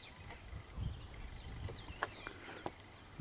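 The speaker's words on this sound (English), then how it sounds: "Listen to the birds." Birds sing outside an old Scottish kirk, with faint chirps and short calls scattered over quiet rustling and low outdoor background noise.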